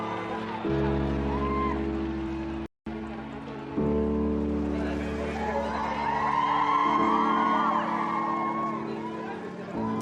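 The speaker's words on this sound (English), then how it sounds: "Everyone was screaming, trying to get the pictures and videos." Crowd screaming and whooping outside St. Mary's Hospital as the royal family emerges, a loud, sustained mass of shouting voices with a brief cut partway through, growing more intense toward the end.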